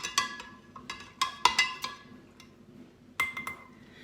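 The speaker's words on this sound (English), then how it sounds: "I'm just going to stir this up to make sure the sugar is all dissolved in there" A spoon stirs sugar into a glass of sweet tea, making a series of bright, ringing clinks against the glass in irregular bursts with short pauses between them.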